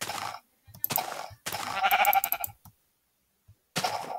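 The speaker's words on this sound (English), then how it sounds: "Now, we have to grab that sheep." Sheep bleat in Paper Minecraft, a browser game version of Minecraft, in several loud close bursts separated by silent gaps, with no talk over them.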